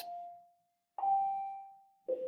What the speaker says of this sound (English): That was the bell letting me know that it is now.